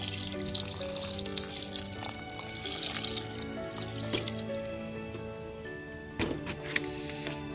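Liquid pouring into a pot of mango datil pepper sauce in a steady, rushing stream, with a couple of soft clunks near the end.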